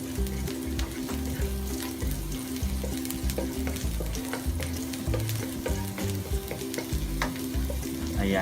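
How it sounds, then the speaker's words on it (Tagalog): Garlic fries in a pan for a Filipino beef steak sauce, giving a steady sizzle broken by frequent pops and stirring clatter. "Siyempre, ang ating bawang. I-fry lang natin ang bahagya."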